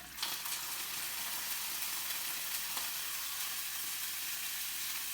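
A tilapia fillet sizzles in hot oil, a steady, close, crackling fry with a few faint pops and no talking.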